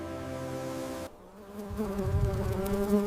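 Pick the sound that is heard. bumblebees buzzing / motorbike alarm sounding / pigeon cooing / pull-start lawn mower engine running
bumblebees buzzing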